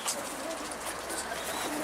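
A pigeon coos softly amid outdoor background noise, with faint voices nearby.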